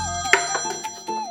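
A phone rings with a bright electronic tone that holds steady for just over a second, with a few sharper clicks and accents in the middle.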